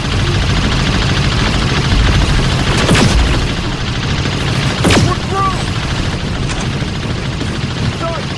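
Gunfire aimed at a tank in the video game Terminator Resistance, heard as a dense, continuous roar of battle noise with scattered sharp shot transients.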